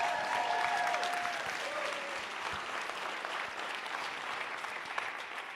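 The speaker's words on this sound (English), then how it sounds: "Please give them a round of applause." An audience at a town hall meeting gives sustained applause, a steady wash of many hands clapping at even loudness throughout, with a faint whistle-like tone briefly at the start.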